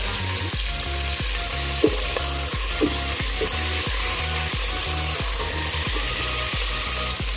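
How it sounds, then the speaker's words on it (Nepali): Mutton sizzling steadily as it is stirred into fried dry spices, a loud continuous frying hiss with a regular pulsing rhythm and an occasional clink of the utensil against the pan. "सुक्खा मसला पनि फुटिसकेको छ, म यसमा राख्छु मासु। हेर्नुहोस् है त, म मासु राखेर मजाले चलाउँछु।"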